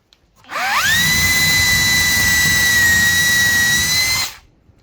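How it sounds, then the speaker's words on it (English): An SDS drill in drill mode whines loudly and steadily for about four seconds while drilling into a block of softwood, pitch rising as it spins up, then cuts off abruptly. "And you can drill into some softwood, just like that."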